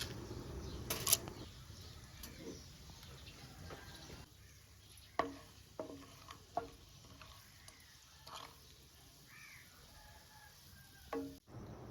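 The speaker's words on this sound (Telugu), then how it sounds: "కొంచెం ఆయిల్ హీట్ అయ్యాక రెండు స్పూన్లు ఆవాలు రెండు స్పూన్ల పచ్చెనగపప్పు వేసుకొని దోరగా వేయించుకోవాలి" Mustard seeds and chana dal fry in hot oil for a red chilli pickle, a faint hissing sizzle with scattered pops and a few stirring scrapes and taps, no talk.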